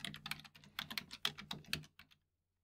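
Brisk typing on a computer keyboard entering a wireless network SSID, a run of quick, uneven keystrokes for about two seconds that then stops, close and clear with no talking.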